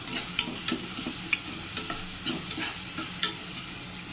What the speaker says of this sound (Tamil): பெரிய வெங்காயத்தில் 1/2 வெங்காயம், கொஞ்சம் கருவேப்பிலை இதை சேர்த்து நல்லா வதக்கிக்கோங்க.